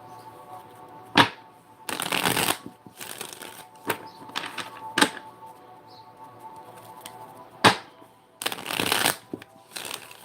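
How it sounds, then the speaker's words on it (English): A deck of cards is shuffled in several quick riffle bursts, close and crisp, separated by sharp taps and brief pauses, with no talking. "Let's go ahead and pull some more cards for today's energy."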